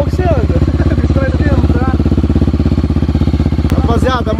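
A Honda XRE 340cc motorcycle idles close by with a loud, rapid, even engine thump, while people talk over it.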